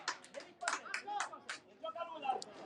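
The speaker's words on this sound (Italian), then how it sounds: "si è infatti da tanti applausi meritatissimi per lui" Scattered applause for a youth football player leaving the pitch during an Under 15 regional elite match between Academy Palermo Calcio and Villabate, quiet, irregular claps from a small crowd with voices and chatter mixed in.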